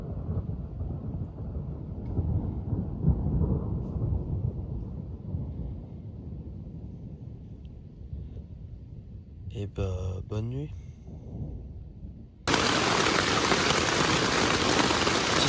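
Heavy rain pounds a tent at night during a nearby thunderstorm, a dense drumming roar with low rumble throughout, a short spoken remark partway, then a sudden louder hiss of downpour at the end.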